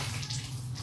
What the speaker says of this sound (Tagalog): Habang tayo ay naglalaba ito.